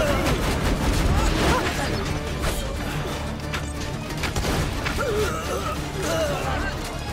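Rapid gunfire and impacts from the Borderlands 2 video game crackle in a busy, steady stream, with people talking over the shooting.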